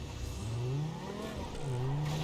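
A Toyota Supra's engine in Grand Theft Auto 5 drones and revs, with pitch rising and falling across two surges, steady and moderately close, with no talk.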